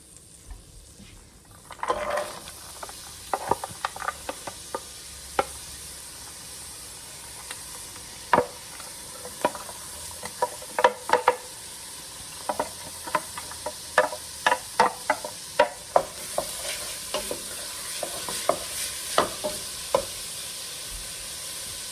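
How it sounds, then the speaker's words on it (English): Onions and carrots sautéing in a soup pot while being stirred constantly, a continuous soft sizzle punctuated by many sharp spoon taps and scrapes on the pot, near and clear, no voices. "we're gonna add our onions and carrots, and we're gonna let that cook, stirring constantly for about 3 minutes"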